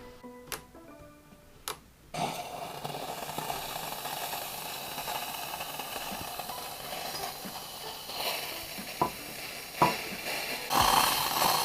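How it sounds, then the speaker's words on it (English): A DeLonghi ECP 3 Series espresso machine fitted with a replacement Rancilio steam wand, steaming with a steady broad hiss that starts after a few faint ticks and keeps on at an even level, close and with no talk. "Well, it's steaming, that's for sure."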